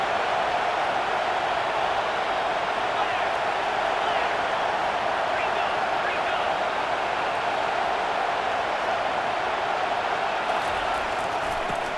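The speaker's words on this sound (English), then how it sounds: "It is getting loud as this crowd tries to help its defense." A large crowd at a college football stadium roars continuously, a dense, loud wall of cheering noise that holds steady without breaks, with speech faintly mixed in.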